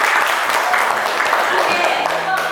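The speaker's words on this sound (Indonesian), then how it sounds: "Kita berikan aplaus dulu." Classroom applause for group 1 among student teachers: a short burst of steady, fairly loud clapping from a small group, with a voice talking over it.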